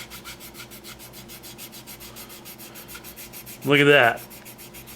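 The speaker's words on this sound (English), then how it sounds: "let's see how that nice surface stands up to the sanding stick" A sanding stick rubs over a freshly primed model surface in quick, rhythmic back-and-forth strokes, steady and close, with a short spoken remark near the end.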